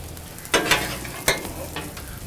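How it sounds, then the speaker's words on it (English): Sausage jambalaya stirred on a hot Blackstone griddle: a few scraping, sizzling strokes of the spatula stand out over a steady background hiss, close and alone with no voices. "We're gonna give this a little stir. Stir it up a little bit."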